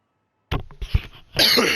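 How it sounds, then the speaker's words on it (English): A short burst of coughing after silence, two or three rough hacks followed by a heavier, sustained exhale. "Sorry about that cough."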